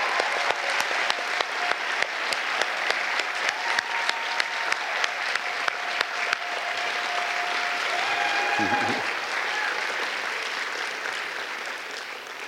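An audience at a student achievement celebration ceremony applauds steadily for about twelve seconds, a dense sustained clapping from a large indoor crowd with a faint voice briefly audible beneath it.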